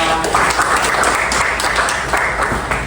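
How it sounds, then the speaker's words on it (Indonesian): Classroom applause for a student during a teaching practice lesson, a steady burst of many hands clapping together, fairly loud and close, holding for about three seconds with no talk over it. "tepuk tangan dulu ya buat Indira."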